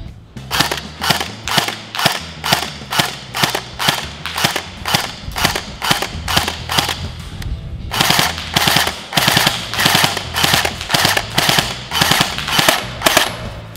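An air gun firing pellets at a target 20 metres away, a rapid, evenly spaced series of loud, close sharp shots with one brief pause partway through, and no talking.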